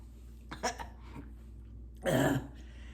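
A couple of short, rough coughs, then a louder harsh cough a moment later, close and isolated.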